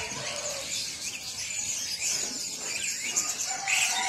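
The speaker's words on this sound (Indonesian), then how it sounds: "Geser ada kenari F1 super." Canaries (kenari F1 super) at a bird market keep up a busy, continuous high chirping and trilling, with many birds calling at once at moderate loudness.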